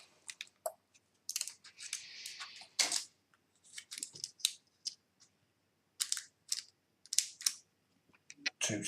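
Scissors snipping open a plastic bag during a half-scale T-800 model build, heard as a run of short, close crinkling and cutting bursts with brief pauses between them.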